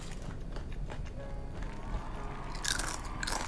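Crisp crunching as someone bites into a crispy giant Indian puri: a steady chewing texture with sharper crackling bursts near the end, close up and fairly quiet, with no talking.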